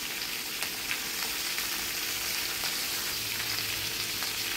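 Mixed vegetables frying together in oil over low gas, a constant close sizzle and crackle with faint occasional stirring.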